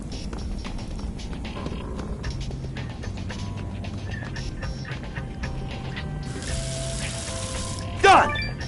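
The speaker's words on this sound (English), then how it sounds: "Done! 1 pot of water, ready for boiling." Water runs from a tap into a pot in the Adventure Time video game, a steady close rush with a rising filling tone near the end and a bright ping as it finishes.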